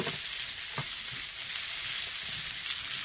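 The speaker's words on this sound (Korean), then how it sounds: "좀 볶아주세요." Beef tripe and liver stir-fried with carrot and onion in a hot pan, a dense, steady, loud sizzle with a few faint scraping stirs and no talk.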